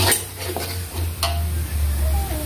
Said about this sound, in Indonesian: kemudian ditambahkan minyak, ditumis sampai benar-benar matang